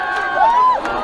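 A live crowd at a Mapo circular tour bus unveiling ceremony lets out a short burst of cheering and shouting, fairly loud, with a high whistle-like voice rising through it.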